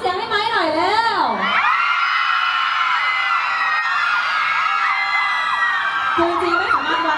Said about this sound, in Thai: ขอเสียงให้ไม้หน่อยเร็ว